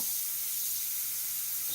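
An airbrush softly sprays paint, giving a faint, steady, airy hiss that runs unbroken through the whole moment with no talk.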